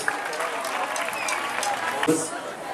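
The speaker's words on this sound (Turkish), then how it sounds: "Büyük bir alkış talep ediyoruz." Audience applause at a music contest held in a shopping mall, a scattered, moderately loud patter of clapping with crowd noise and a voice mixed in.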